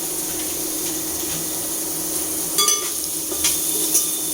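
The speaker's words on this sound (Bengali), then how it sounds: "এখন আদাটা দিয়ে দিলাম সয়াবিনের সাথে একটু ফ্রাই করে নিচ্ছি" Ginger frying with soybean in a pan gives a soft, steady sizzle, with a few brighter stirring scrapes and clinks near the end; close and fairly quiet, no talking.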